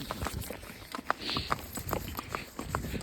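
Horse hooves clip-clop steadily on a pony ride toward the valley viewpoints in Pahalgam, Kashmir, with a close, rhythmic walking beat and light tack jingles over outdoor background noise.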